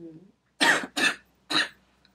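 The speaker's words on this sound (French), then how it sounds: "je m'excuse, je vais beaucoup tousser en parlant" Three sharp, close coughs in quick succession after a brief low murmur, then quiet.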